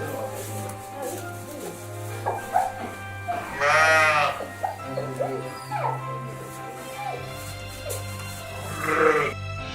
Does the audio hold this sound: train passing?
no